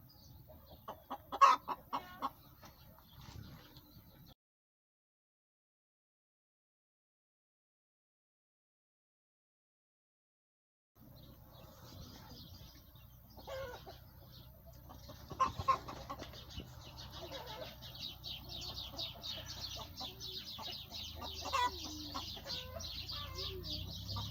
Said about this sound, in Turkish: Tavuğumuzun sesi geliyor arkada.